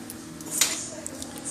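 Tony Chachere's instant roux mix is stirred into about half a cup of water with a utensil, giving soft scraping and light clinking against the container. One brief, sharper scrape stands out over a low, steady background.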